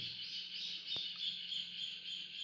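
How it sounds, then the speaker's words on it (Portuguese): Birds sing outdoors, with a steady stream of high chirps and trills carrying on without a break, faint and somewhat distant, alongside one brief sharp tap partway through. "Olha os pássaros cantando aí,"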